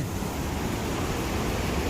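Continuous broadband rush of falling water, a steady roaring hiss with no breaks or voices, like a waterfall heard up close; Tad Lo waterfall, Lao Ngam, Salavan, Laos.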